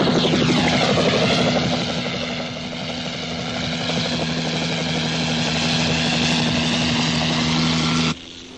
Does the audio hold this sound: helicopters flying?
yes